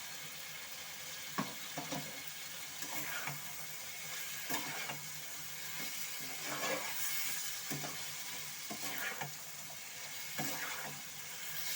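Spiced potato, ridge gourd and shrimp curry frying in a pan, a soft continuous sizzle broken by repeated scraping stirs of a spoon, close but fairly quiet.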